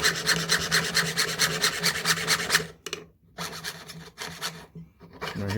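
A fine saw blade rasps through a wooden nameplate in fast, steady strokes, pausing briefly before resuming in shorter bursts, close and fairly loud.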